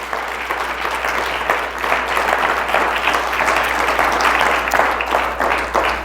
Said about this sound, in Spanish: Fuerte el aplauso si es para el Señor,